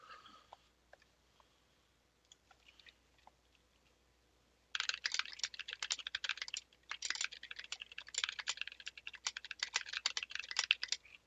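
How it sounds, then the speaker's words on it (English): Typing on a custom M65-A mechanical keyboard build: a few sparse key clicks at first, then dense, fast clattering keystrokes in irregular bursts, close and clear with no talking. "I can type for a second."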